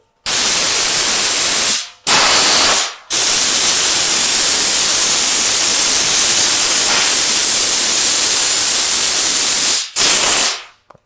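Compressed air hisses from an air hose fed through a regulator. Loud, harsh blasts come in several bursts separated by brief silences, with no talking.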